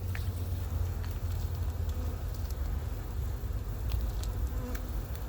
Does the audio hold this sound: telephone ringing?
no